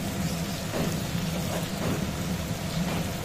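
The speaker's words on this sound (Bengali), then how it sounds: "আলুটা ভাজতে ভাজতে ততক্ষণ আমি এগুলো সব গুছিয়ে ফেলি" Potatoes fry in hot oil in a pan while crab curry is being prepared, giving a steady, dense crackling sizzle that runs evenly throughout with no talking.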